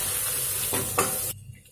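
Steady sizzling of onions frying in a pan, a bright broadband hiss with a couple of brief stirring scrapes, then cutting off abruptly near the end.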